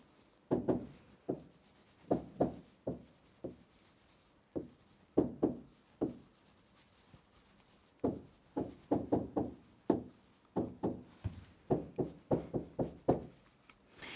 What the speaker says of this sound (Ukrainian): Записуємо скорочену умову задачі.